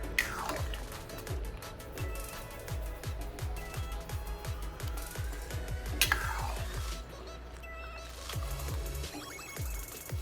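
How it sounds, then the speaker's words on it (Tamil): Rapid, repeated scraping and tapping of a utensil against a pot as semolina is stirred into boiling water for upma, thick, with short pauses between bursts. "ரவையை போட்டு கிண்டி இறக்கிடலாம்"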